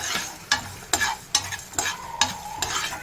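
Whole garam masala spices and cumin and fenugreek powders frying in oil for fish pickle, a soft steady sizzle broken by about six sharp scrapes of a spoon stirring the pan, close up.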